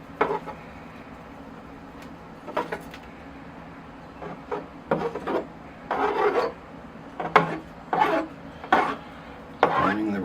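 Tool combing out the roots of a Burt Davyi ficus bonsai on a tray, a series of short close scratching, raking strokes in irregular bursts with quiet gaps between them.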